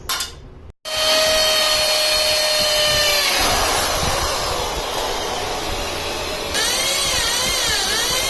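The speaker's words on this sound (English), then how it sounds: "this is where we're going to do the drill" A power drill whirs loudly and steadily after a brief pause, its pitch shifting as it bites into material, with no talking, while fitting a tall flyscreen visor on a Royal Enfield Thunderbird.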